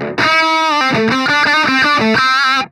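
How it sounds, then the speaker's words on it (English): An electric guitar plays a short run of chords through a KSR Ceres preamp in its 5-gain-stage mode, heavy high-gain distortion, loud and saturated, ringing out before cutting off. "let's put the mode in the 5 gain stage distortion."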